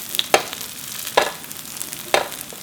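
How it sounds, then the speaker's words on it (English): Oil sizzles in a frying pan over medium heat while mung bean pancakes (bindaetteok) cook, under three sharp, bright clatters spaced about a second apart, like a utensil stirring or tapping the pan. "then you see the sizzling oil"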